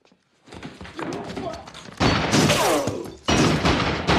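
Gunfire in a crime movie scene: heavy, booming shots and impacts burst out in loud bursts, mixed with dialogue, thuds and dramatic soundtrack noise.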